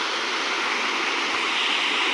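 Rainwater runs through a forest in a dense, constant rushing stream, close and loud, with no breaks or voices.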